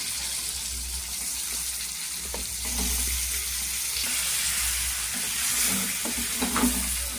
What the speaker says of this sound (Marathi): यामध्ये मच्छी टाकूया.